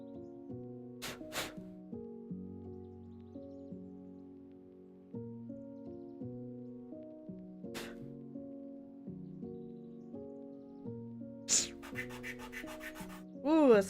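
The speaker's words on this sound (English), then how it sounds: "If you guys don't like sanding," Steady sanding on a time-travel camper build, a smooth grinding whine with layered humming tones that runs almost unbroken, broken by a few sharp scrapes and a brief rattling burst near the end.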